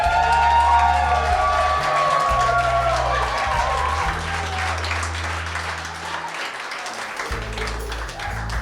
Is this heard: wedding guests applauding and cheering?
yes